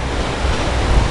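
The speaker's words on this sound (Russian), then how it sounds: "И волны накатывают." Caspian Sea waves rolling onto the shore at Aktau in spring, a steady loud broadband wash of surf with wind rumble, continuous and close, no voices.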